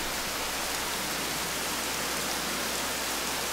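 Steady, dense rain hisses evenly and loudly throughout in the video game Rain, a constant broadband wash with no pauses and no voices.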